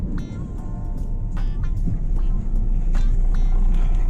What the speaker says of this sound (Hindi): ये गाड़ी की स्पीड देखिए 40 किलोमीटर प्रति घंटे के हिसाब से है।